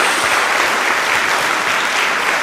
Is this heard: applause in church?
yes